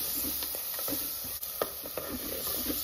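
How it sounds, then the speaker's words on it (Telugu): Tomato frying in a pan with turmeric and chili powder, with a faint sizzle and soft scattered stirring taps, no voices. "ఇప్పుడు ఇలాగా కొంచెం వేయించుకోవాలి"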